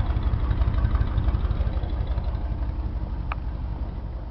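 A 1985 Pace Arrow Class A motorhome engine running at idle, a steady, low, rumbling drone with an even throb, close and continuous.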